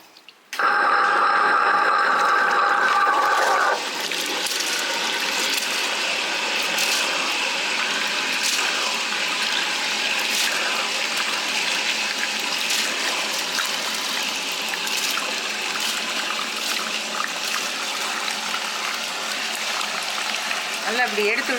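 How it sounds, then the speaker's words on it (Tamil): Wet grinder churning soaked idli rice with water, a steady loud whirring and sloshing drone that starts abruptly and runs continuously without talk. "கிரைண்டரை ஓட விட்டே போடுவோம்"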